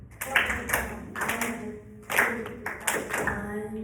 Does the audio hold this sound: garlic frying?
no